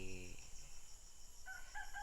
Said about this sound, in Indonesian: ternak ayam petelur milik Pak Ipur ini